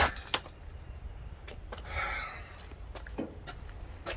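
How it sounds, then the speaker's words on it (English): A set of Allen keys is pulled out and jangles in a few short metallic clinks and rattles, close by, with light handling noise between them and no speech. "Might as well get my Allen keys out."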